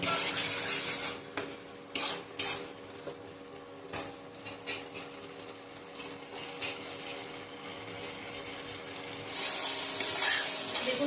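Spice paste of poppy seeds and cashews frying and being stirred in a pan, a soft steady sizzle broken by repeated scraping strokes of a spoon against the metal, with a louder hiss building near the end.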